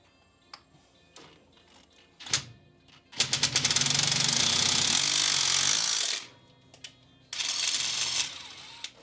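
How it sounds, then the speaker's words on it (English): A loud, sustained power drill whirs, boring a hole into a 1964 Mustang carburetor float bowl, for a few seconds, stops, then starts again briefly, with scattered clicks and handling noises around it. "drill the hole right into your float bowl"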